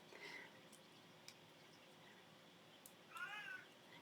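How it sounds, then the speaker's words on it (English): A house cat meows twice while calling for its absent owner, a brief cry at the start and a clearer, longer meow near the end, moderately close in an otherwise quiet room. "her cat is calling to her, wondering where her mommy is"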